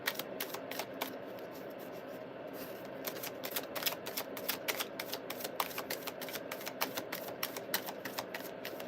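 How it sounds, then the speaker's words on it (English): Tarot cards being riffled and shuffled during a live reading, a fast run of crisp flicking snaps repeating steadily at close range with no talk over them. "Want me to shuffle the other way?"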